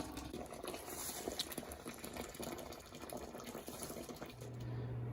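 Finished maple syrup pouring from an evaporator pan into a pot at a sugar bush, a steady faint liquid rush and trickle heard alone at low volume.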